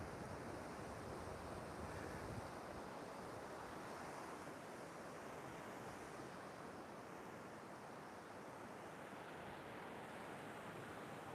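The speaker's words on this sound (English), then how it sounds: "Just enjoying the sound of the waves and the beautiful sunrise." Ocean waves wash onto the beach at Sam Roi Yot at sunrise in a steady, soft surf roar with some wind, with no voices.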